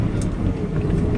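A 1993 Mazda B2600 4x4 pickup with an upgraded exhaust pulls in second gear, a steady low engine drone with some wind noise over it, close and continuous.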